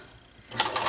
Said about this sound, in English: On this side, I'm just going to sew the